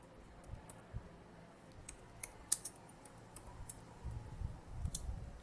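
Keyboard typing at a computer, scattered light clicks and taps at close range, fairly quiet, with no voices.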